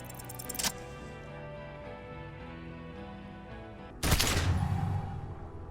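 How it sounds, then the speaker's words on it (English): A gunshot in the video game Disco Elysium bursts out as one sharp, loud blast followed by a decaying roar, after a quiet stretch of a sustained musical tone and a shorter crack near the start. "A plume of smoke and fire erupts from the gun, and your hand goes numb from the explosion."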